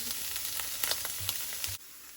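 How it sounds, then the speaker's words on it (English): White onions frying in a pan for a Jamaican beef patty filling give off a steady close sizzle with scattered pops and crackles, which stops abruptly near the end. "I'm going to add the white onions. With the white onions, we're just gonna put it in and cook them till they're translucent."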